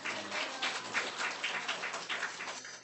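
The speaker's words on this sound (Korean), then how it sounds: "박수" Congregation applauding in a church during a daytime worship service, a dense steady patter of many hands clapping for nearly three seconds, fairly close and even, with no talking over it.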